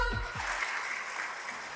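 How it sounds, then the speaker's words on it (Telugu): Applause from an awards-show audience in a hall, steady and dense for the whole stretch, after a brief low thump at the start. "ఒకసారి గట్టిగా చప్పట్లు కొట్టండి మా వాళ్ళ కోసం"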